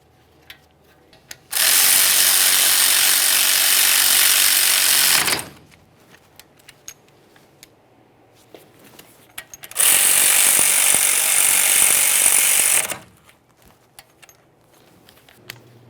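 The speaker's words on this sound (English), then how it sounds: "Start them on, snug them up, torque those to 53 foot-pounds." A torque wrench tightens brake caliper bracket bolts on a 2017-2023 GMC Acadia, heard as two loud, close bursts of rapid mechanical buzzing, each a few seconds long, separated by near silence.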